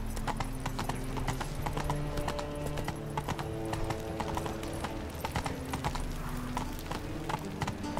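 Roach, the horse in The Witcher 3, gallops with a steady, rapid drumming of hooves, continuous and close throughout, with a brief whinny-like tone under the game's ambient sound.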